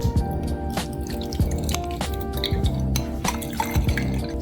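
Hot garam masala chai pouring through a strainer into a cup, a steady liquid trickle with soft drips and splashes, close and continuous.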